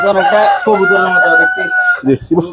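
White Polish cap chickens on a farm, one rooster giving a loud, close crow that rises and holds before breaking into clucks, with a voice talking alongside.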